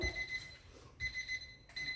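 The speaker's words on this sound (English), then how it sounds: "I have a timer still going" A kitchen-style timer alarm beeps in quick repeated bursts, two clear bouts separated by a short gap, moderately loud in a quiet room with no talking.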